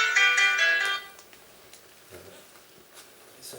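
A telephone rings with a bright electronic tone for about a second near the start, then it stops and only faint room sounds and small knocks remain.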